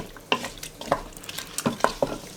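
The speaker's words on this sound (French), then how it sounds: "là je mélange et je fais cuire du coup l'ensemble" Beef and white bean stew with chorizo stirred in a pot, a spoon scraping and clacking against the sides in irregular strokes over a soft background sizzle.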